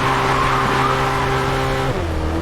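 Racing cars in the video game Racing Master, duelling an AMG: loud, steady engine drone layered with screeching tire skids that shift pitch partway through, with no talking.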